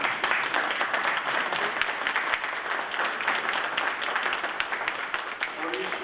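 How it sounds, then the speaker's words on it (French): Audience applause after a blessing at a book-launch gathering in Péchin, a steady, moderately distant patter of many hands clapping throughout, with some speech-like noise blended in. "on peut applaudir"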